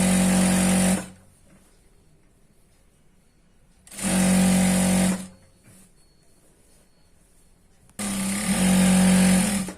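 A sewing machine stitches the side seam of churidar pants in three loud, steady bursts of about a second each, separated by quiet pauses, the last run longer than the others.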